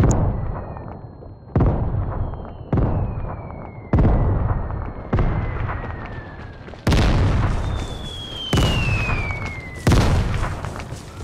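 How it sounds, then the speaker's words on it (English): Mortar strike in the shooter game Vigor: eight heavy explosions arrive one after another at roughly even intervals, each a sharp loud boom with a rumbling decay, some trailed by a falling whistle. "He caught on the mortar strike."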